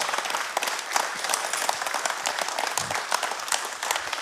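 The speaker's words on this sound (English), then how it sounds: "Round of applause" Audience applause after a testimony talk by a former NFL quarterback, a sustained burst of many hands clapping at close range, steady and dense throughout.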